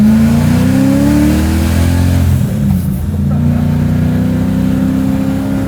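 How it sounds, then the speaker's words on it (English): A supercharged V8-swapped BMW E30 revs loudly up close. The engine note climbs, dips briefly near the middle, then rises again into a sustained roar. "so I'm all motor. I'm not even touching boost yet"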